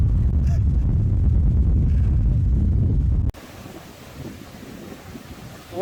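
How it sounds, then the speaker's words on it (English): Loud wind roars and buffets the microphone for a few seconds on Terceira Island in the Azores, then cuts to a much quieter, hissing background. "This is how windy it gets."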